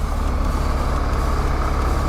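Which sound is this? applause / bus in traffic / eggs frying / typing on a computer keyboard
bus in traffic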